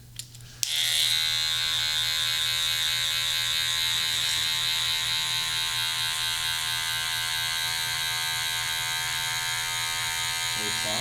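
Electric hair clippers with the lever open fade hair in a high fade slick back haircut. After a brief click they switch on and run with a loud, steady buzzing hum for the rest of the stretch.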